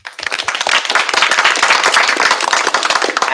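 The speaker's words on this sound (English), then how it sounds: "So let's give a round of applause to all of them." Listeners at an academic workshop on optimization give a round of applause, a loud, close burst of sharp individual claps that builds quickly from near silence and holds steady, crisp and uncovered by speech.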